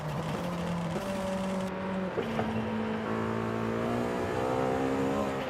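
A stock engine in Forza Horizon 5, awaiting its VTEC switchover and paired with a 10-speed gearbox, revs up steadily in game, the pitch climbing through steps as it pulls, loud and close with no talking.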